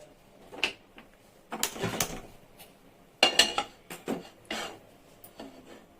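Ginger and garlic pounded in a mortar in a home kitchen: several irregular bursts of hard knocking and clattering, moderately near, with brief pauses between strikes and no talking.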